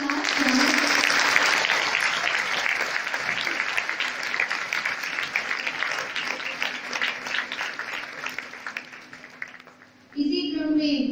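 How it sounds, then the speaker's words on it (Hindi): Loud, sustained applause from an audience at a girls' senior secondary school welcoming event, steady clapping lasting around ten seconds before a voice begins speaking. "जोरदार तालियों के साथ स्वागत।"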